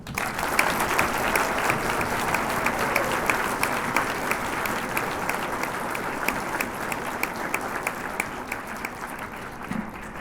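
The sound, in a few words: audience applauding a middle school band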